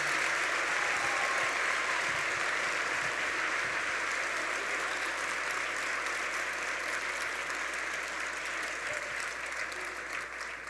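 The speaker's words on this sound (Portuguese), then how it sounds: "Será que você pode aplaudir Jesus bem forte aí onde você está?" Church congregation applauding Jesus, a steady, dense wash of clapping that stays even and continuous throughout, heard from a distance with no speech over it.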